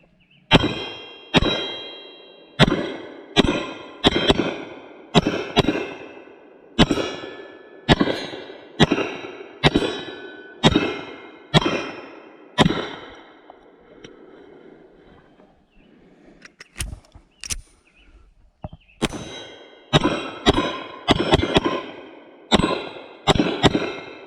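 A Glock 48 pistol fed from PSA Micro Dagger magazines fires a long string of sharp, loud shots outdoors. Steady single shots ring with metallic echoes, pause briefly midway, then resume with a few scattered shots before another quick run.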